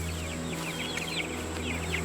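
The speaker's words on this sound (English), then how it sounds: "one of the chickens got their head stuck in the feeder" A chicken with its head stuck in a feeder gives soft, repeated clucks and chirps over a steady mechanical hum, close by and without speech.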